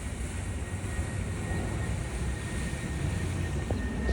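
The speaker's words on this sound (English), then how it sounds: "There goes my airplane." An airplane passing overhead on a Saturday, heard from indoors near a window as a steady, moderately loud droning rumble that holds evenly throughout without voices.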